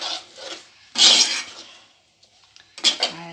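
A spoon scrapes and clatters in a pot as ground coconut gravy with cumin and pepper is stirred, in a few short bursts of metallic scraping separated by brief pauses.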